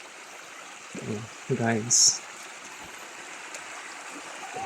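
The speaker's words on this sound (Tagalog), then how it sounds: "Dinig na dinig dito yung lagaslas ng tubig" Continuous rushing of a stream fills the background at moderate level, with brief bursts of talk and a sharp high chirp partway through.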